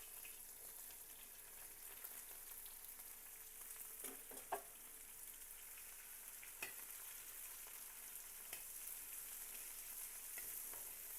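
Sliced onions frying in oil for a chicken curry, a soft, steady sizzling hiss with a few light clicks and scrapes from stirring, fairly quiet and with no voices.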